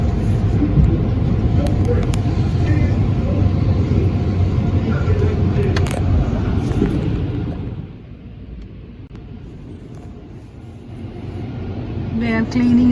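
An automatic car wash runs with a truck inside, left in neutral, giving a loud, steady broadband rush of spraying and machinery that drops to a quieter wash about two-thirds through before swelling again.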